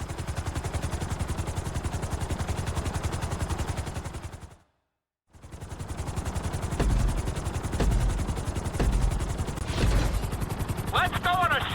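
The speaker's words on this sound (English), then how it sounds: "we're gonna put you in a helicopter for this lesson" Helicopter flying a city tour course in GTA 5 flight school, a steady loud rotor drone with rapid chopping pulses throughout, broken by a brief silent gap midway, then several sharp thumps and a rising whine near the end.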